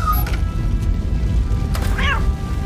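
A cat meows once, briefly and clearly, amid ambient game noise in a burning hotel in the video game Robocop: Rogue City.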